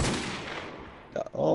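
A Desert Eagle pistol is fired in a video game, opening with a fading heavy boom and echo, then after a near-silent gap one or two sharp, close reports in quick succession with a ringing tail.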